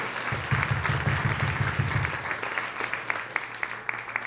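A crowd applauds the speakers at a political candidates' debate event, steady clapping fairly distant in the room, with a low droning hum underneath early on and scattered louder claps as it tapers.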